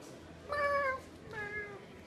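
In the RuneScape video game, a wolf gives a cat's meow: two short, clear mewing calls in quick succession, the first louder, against quiet background noise.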